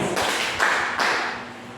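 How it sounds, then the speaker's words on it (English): A classroom of students gives a quick round of claps during a lesson on the muscular system, the claps coming as a few broad, fairly loud bursts that fill the room, with a soft thud near the end. "Give her 3 claps"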